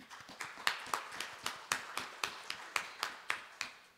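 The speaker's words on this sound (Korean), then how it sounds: "축하의 박수 한번 보내시도록" Rhythmic clapping from an audience at a Wednesday religious service, quiet and somewhat distant, with evenly spaced claps continuing steadily throughout.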